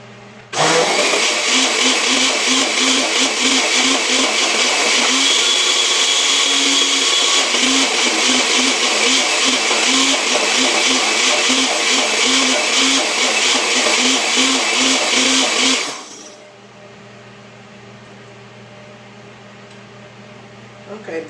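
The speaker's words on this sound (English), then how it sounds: "Just to make sure my onions are all blended up in there." Blender running loud and close as it purees onions and egusi seeds into a paste for alkaline egusi soup, a steady roaring whir for about fifteen seconds before cutting off to a quiet hum.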